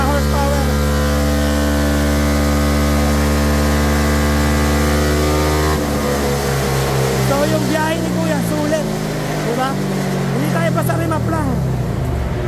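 A Yamaha Nmax v2 scooter with a remapped stock ECU runs on a dyno, its engine loud and close, holding a steady high drone before the pitch sweeps and wavers through revving.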